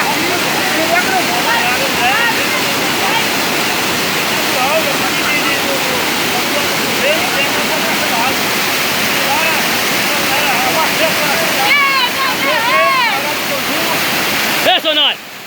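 A waterfall roars steadily close by with a dense, continuous rush, and voices talk and call out over it at times.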